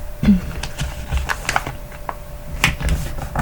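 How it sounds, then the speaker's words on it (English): Paper portrait being folded and creased by hand, a string of crisp crinkles and taps scattered irregularly through the moment at close range with no talking. "all I'm going to do is kind of fold this portrait"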